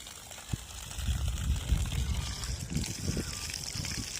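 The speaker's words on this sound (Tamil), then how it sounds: "எவ்வளோ ப்ரெஷராக தண்ணி தள்ளுதுன்னு பாருங்கள்." Water from the one-inch outlet of a 24 V solar submersible pump drawing from about 90 to 100 feet, splashing and trickling steadily throughout, with faint voices in the background.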